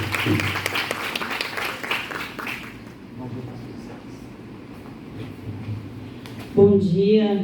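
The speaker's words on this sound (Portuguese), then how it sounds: "recebendo uma salva de palmas" An audience gives a round of applause at a state adoption best-practices meeting, clapping loudly at first and fading after about three seconds, followed by a quiet stretch and then a voice starting to speak near the end.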